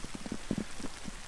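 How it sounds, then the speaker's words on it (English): Rain falls outdoors along a rural walking route between Millstreet and Kealkill in Ireland, a steady soft hiss with scattered patters of drops, with no voices. "It's raining now, so I'm gonna put my hat back on."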